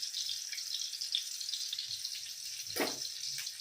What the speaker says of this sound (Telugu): పక్కన పెట్టుకున్న తర్వాత ఇట్లా కడాయిలో వేయించుకోవాలి.